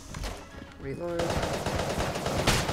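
Rapid bursts of gunfire from the bullet-hell game Enter the Gungeon, with a few tonal game effects before a dense, sustained volley that runs to the end at moderate loudness.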